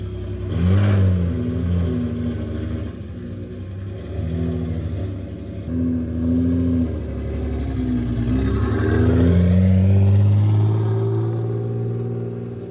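An Acura NSX with a modified exhaust and little turbo noise revs while driving on a test drive, a loud, close engine drone that rises and falls in several pulls and gear changes, with no talk.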